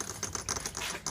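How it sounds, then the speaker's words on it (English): Check valve rattling inside a Polaris FST snowmobile fuel tank as fuel is drawn through the line, heard as a quick, steady run of light ticking clicks, close and fairly quiet, with no voices. "basically that noise you hear is the check valve in the tank"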